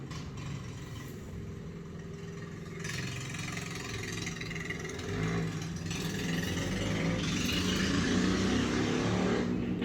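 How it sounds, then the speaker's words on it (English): Constant engine roar and passing vehicles fill a very busy street crowded with motorbikes, the traffic noise swelling louder and denser toward the end, with no voices. "This is a very, very busy street."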